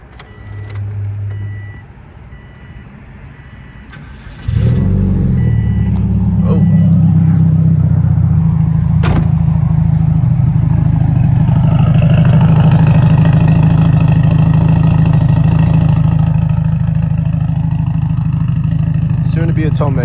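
A Subaru EJ flat-four engine cranks briefly, then catches and settles into a loud, steady, burbling idle close by, holding evenly for a long stretch with faint background clatter.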